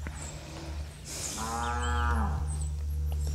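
A cow lets out one loud, drawn-out moo that swells to a deep, harmonic bellow for about a second and a half, close and clear over a low steady hum, with no talking.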